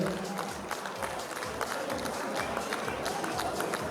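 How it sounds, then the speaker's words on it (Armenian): An audience claps steadily at a gathering, a dense, even wash of applause lasting throughout with a faint voice underneath. "Սոնա քույրիկին ենք ծափահարում"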